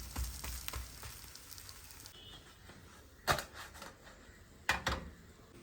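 Parotta crisping in a pan, a soft steady sizzle with brief sharp clatters as the flatbread is flipped to cook both sides.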